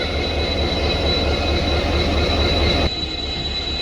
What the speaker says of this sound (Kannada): ಅಲ್ಲೋಡಿ ಒಂದು ಟ್ರೈನ್ ಕೂಡ ಡಿಪಾರ್ಟ್ ಆಗ್ತಿದೆ